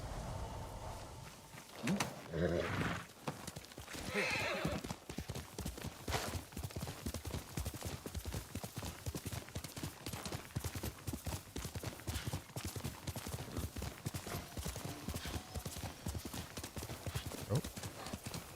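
Horse hooves clip-clop steadily in a video game, a quick, even run of hoofbeats close and continuous for most of the stretch, with a brief whinny and some background game noise early on.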